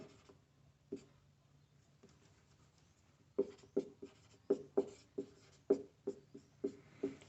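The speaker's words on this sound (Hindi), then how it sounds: "तो मैं यहां डेफिनेशन लिख दूंगा" Chalk or marker strokes tap and scrape as a definition is written out on a classroom board, a faint early stroke followed by a run of quick, distinct ticks and short scratches, close and clear with no talk.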